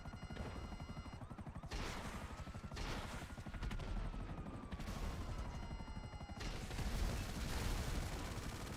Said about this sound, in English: I didn't mean to shoot at this guy